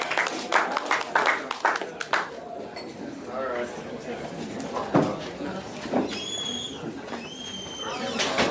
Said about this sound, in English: Clap it up for Waldo, everybody.